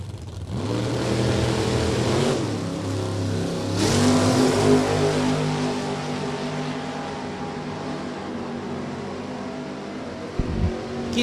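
Drag race between a 1971 Challenger and a 1985 Porsche: loud sustained engine roar at the racetrack, swelling as the cars accelerate, then cutting off abruptly near the end.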